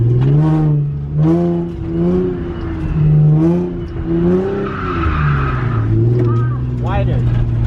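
A car drifting in practice, engine revving in repeated rising and falling surges with tire squeal, loud and close; a person talks over it between bursts.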